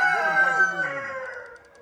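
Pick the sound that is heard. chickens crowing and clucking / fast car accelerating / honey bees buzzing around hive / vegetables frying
chickens crowing and clucking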